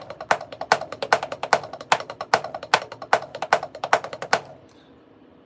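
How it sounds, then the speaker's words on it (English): Drum kit playing inverted paradiddles, a fast run of crisp, close strokes in a tight, even rhythm of about sixteen hits that stops abruptly and leaves a short quiet tail. "I play inverted paradiddles."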